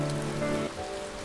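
Steady rain falls in a dense, even hiss, with a faint tonal hum that fades partway through.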